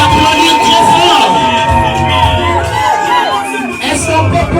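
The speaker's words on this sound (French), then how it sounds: "Est-ce qu'on peut les applaudir très fort?" A loud crowd at a lively gathering shouts, whoops and cheers over music, with a voice talking through the noise.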